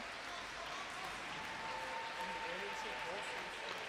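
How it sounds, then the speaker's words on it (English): A crowd at a women's team table tennis match at the London 2012 Games claps steadily, a soft, distant patter of applause running the whole time under a commentator's voice. "lots of claps of approval from this appreciative crowd"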